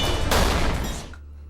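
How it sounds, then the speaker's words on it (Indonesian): A burst of loud gunfire from a restaurant shootout in an action movie scene, dense rapid shots that cut off abruptly and leave a low rumbling hum. "Dalam hitungan detik, baku tembak pun pecah."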